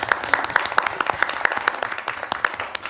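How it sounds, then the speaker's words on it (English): An audience at a university living lab showcase gives a short burst of applause, a brisk run of overlapping claps at moderate loudness lasting a few seconds without talk. "And I think a little clap"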